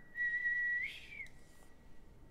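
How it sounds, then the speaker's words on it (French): A person whistles to calm a shark: a single sustained, steady whistled tone lasting under a second, fairly faint and alone, followed by quiet. "Donc, je siffle."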